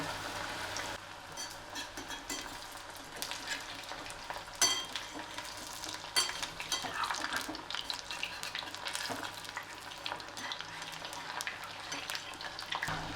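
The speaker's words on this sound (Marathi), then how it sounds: "तेल तापलेलं आहे आता त्यामध्ये मी हळूहळू वडे" Bottle gourd vadas fry in hot oil with a steady, crackling sizzle that runs the whole time, broken by a few sharper pops and splashes as pieces are dropped in or stirred. No one speaks.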